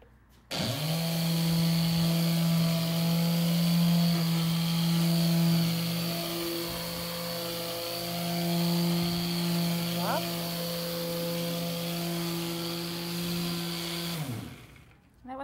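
A power sander works across wood with the grain, giving a loud steady electric whine that starts abruptly, holds for about fourteen seconds with a brief dip midway, then stops.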